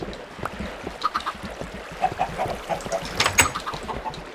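Chickens cluck and squawk in a Minecraft game world, short clucks and bursts repeating at a moderate level with a louder burst near the end, and no talking.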